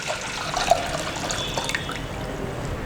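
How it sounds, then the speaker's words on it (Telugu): Water poured into a pot sitting on a stove, a steady splashing stream running for the whole stretch with no voices. "ఒక గిన్నె పెట్టుకొని అందులో 1 లీటర్ నీళ్లు పోసుకోవాలి"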